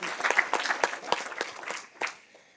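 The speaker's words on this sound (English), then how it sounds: "On peut l'applaudir, je pense." Applause from an audience at an OCaml users' meetup in Paris: a burst of many hands clapping in a fairly dense patter, moderately loud at first, thinning out and fading to a few last claps.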